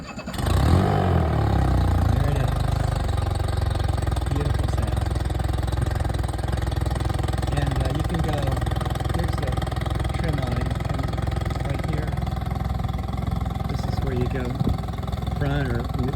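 A 40 HP Mercury outboard motor on a 16-foot Tracker V-hull boat cranks and catches near the start, then idles close by in a steady, even rumble; a voice is heard talking over it.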